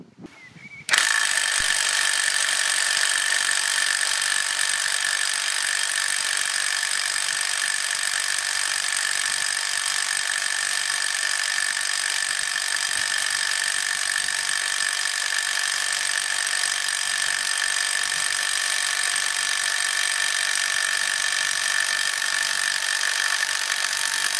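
A Parkside cordless impact wrench with an 8 Ah battery strains to loosen a tight bolt, giving a steady, loud, high-pitched mechanical whine and hammering buzz that runs almost unbroken for over twenty seconds after a brief start.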